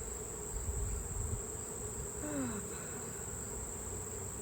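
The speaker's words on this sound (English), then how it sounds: "Watch out, bee." Honeybees buzz around a hive frame during a honey harvest: a faint, steady hum with a brief rising whine partway through, and no voices.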